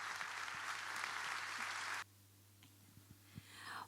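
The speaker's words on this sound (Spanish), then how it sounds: "pongamos bien en alto ese aplauso" An audience at the opening of the 23rd Chajarí book fair applauds loudly for about two seconds in welcome of a guest; the clapping then stops abruptly, leaving quiet room noise with a few scattered sounds.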